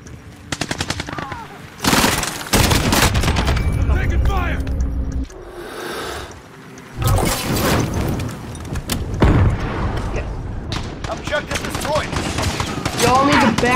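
Call of Duty Modern Warfare gunfire crackles in rapid bursts and single heavy blasts, loud and close, broken by a short lull, with a player talking over parts of it.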